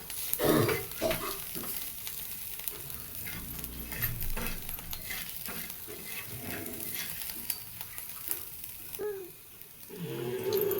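Green chilli thecha sizzles in a pan while a spoon stirs it, with scraping strokes and a steady fry close up that swell again near the end.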